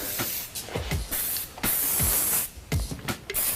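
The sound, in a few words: hairspray sprayed onto pinned hair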